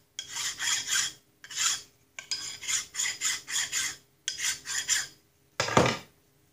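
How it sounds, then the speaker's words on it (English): Metal file rasping burrs off a cross hole drilled in a steel shift lever shaft: repeated close, dry strokes in short bursts with brief pauses, ending in one harder, louder pass. "We want to file off that cross hole and get the burrs off it."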